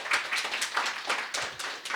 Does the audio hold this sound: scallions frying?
no